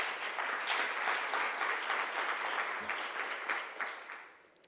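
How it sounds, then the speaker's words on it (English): Audience applause at a public hearing on energy profiteers, a dense, steady clapping that holds for several seconds and then thins out toward the end. "Can we give a round of applause for Melissa?"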